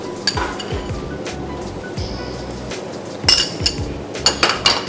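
Tomato and pepper paste being mixed in a bowl for Turkish lentil patties, with a utensil scraping and clinking against the bowl in irregular close knocks and taps, louder near the end.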